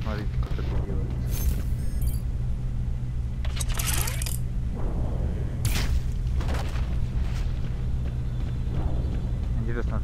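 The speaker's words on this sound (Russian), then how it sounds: "Проще просто выстрелить ему в голову." Gunshots to the head in the sci-fi stealth video game Solarix: several sharp, loud booming blasts at irregular intervals over steady game ambience, with someone talking throughout.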